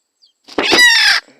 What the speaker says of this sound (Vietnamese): ôi rồi gà rừng này khỏe thật